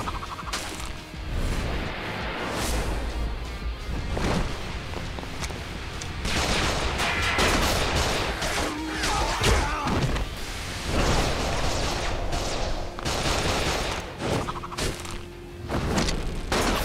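Gunfire in the action game Like a Dragon Gaiden, with dense bursts and sharp cracks repeating throughout amid a crowded mix of other in-game effects and crashes.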